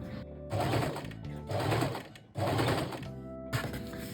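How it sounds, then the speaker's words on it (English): A sewing machine stitches qipao fabric along a curved edge in four short bursts separated by brief pauses, close and steady, with no voices. "Then only sew from the curved edge here"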